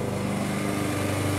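A Yamaha MA 190 self-propelled lawn mower runs steadily, a loud, close, continuous engine drone with a buzzing rattle and no talk.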